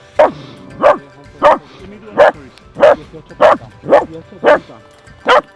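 A tracking dog on a blood trail after a giant red deer stag in Spain barks loudly and close, about nine sharp barks at an even, steady rhythm.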